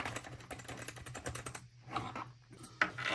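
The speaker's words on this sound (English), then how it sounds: "That is actually a really good keyboard." Typing on a new computer keyboard, a rapid run of crisp key clicks with irregular rhythm and a brief pause midway, close and fairly quiet with a sharper keystroke near the end.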